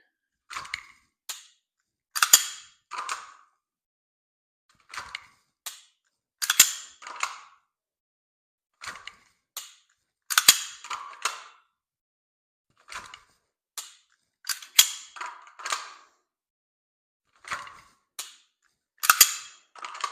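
Dry firing a pistol produces sharp, close trigger clicks and slide racks in irregular bursts across silence, several quick snaps in each group with pauses between them.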